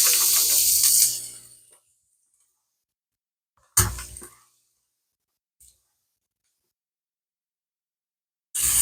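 Onion hitting a heated pan for sautéing, a sharp burst of hissing sizzle that fades after a second, followed by a few brief sizzle bursts separated by silence.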